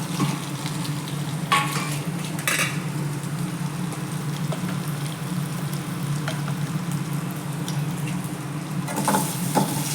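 Egg sautés in hot oil with masala in a kadai, a steady soft sizzle with occasional stirring scrapes, close and alone.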